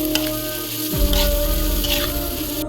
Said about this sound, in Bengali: এখন আমি পেঁয়াজ ও কাঁচামরিচ তেলে ভালো করে ভেজে নেব